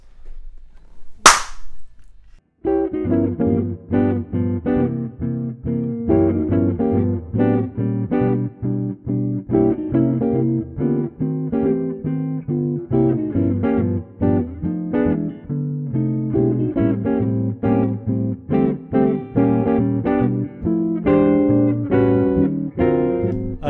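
A solo piano plays a bluesy étude built on diminished seventh chords, with rich chords and running lines, steady and clear after a sharp click at the start.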